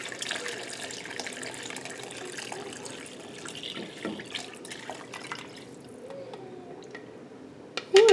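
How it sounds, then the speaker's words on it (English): Vegetable broth poured into a full soup pot of vegetables and tomato sauce, a steady close liquid stream and splashing that thins toward the end, ending in a brief louder clunk, with no speech. "lastly, I'm gonna add, hopefully this all fits, the vegetable broth"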